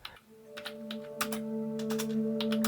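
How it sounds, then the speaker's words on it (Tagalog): Computer keyboard keys clatter in quick irregular bursts, close and clear, over a steady low electrical hum. "Tanging tunog lang ng keyboard yung naririnig ko nung mga oras na yon."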